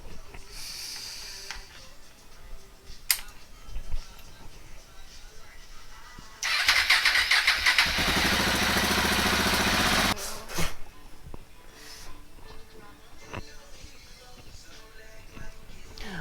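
A KTM SMC R 690 motorcycle's single-cylinder engine cranks and fires up after an oil and filter change, then runs loudly and steadily for a few seconds before cutting off, with quieter moments around it.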